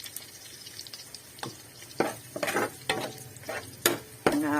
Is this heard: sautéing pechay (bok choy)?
yes